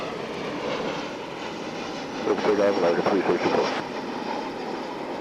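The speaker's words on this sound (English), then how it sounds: "we will watch this plane, this mighty aircraft take off" A large airliner's engines roar at Dallas/Fort Worth Airport, a steady distant drone that swells louder for a couple of seconds, then eases back, under an ongoing background hum.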